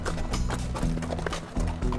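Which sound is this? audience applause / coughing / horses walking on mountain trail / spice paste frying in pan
horses walking on mountain trail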